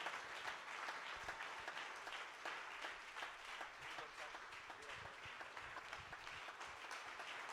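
Congregation applause at a church gathering, greeting a prophet invited to the platform, a steady broadband patter of many hands running throughout at moderate level, with faint voices mixed in.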